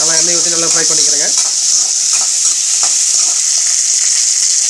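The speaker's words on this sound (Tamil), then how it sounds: "நல்லா எண்ணெய் ஊற்றி நல்லா ஃப்ரை பண்ணிக்கிறேங்க." Onions fry in oil in a pan with a dense, continuous sizzle and occasional stirring clicks. Someone speaks briefly at the start.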